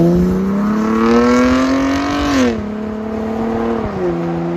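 A 2017 Chevy Camaro RS V6 with dual MBRP axle-back exhaust revs up in a rising smooth drone, then drops back with a couple of quick falling blips, close and loud with no talk.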